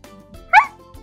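A person briefly imitates a small dog's growl, giving one short voiced yelp-like burst that stands alone in a quiet room.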